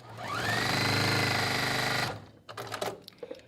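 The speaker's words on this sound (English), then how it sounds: "So what I'm gonna do is sew this real quick." A sewing machine fitted with a quarter-inch foot stitches quilt block pieces in a steady, loud, close whir for about two seconds, then stops, leaving faint handling clicks and rustles.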